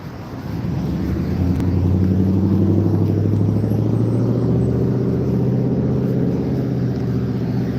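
Passing road traffic heard during an outdoor walk: a loud, close vehicle swells in after a brief quiet and holds a steady low engine drone and rumble for several seconds, with no talk.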